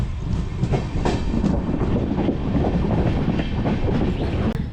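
A train running at Karwar railway station, a steady loud rumble of wheels on track with rhythmic clickety-clack close by, continuous with no talk.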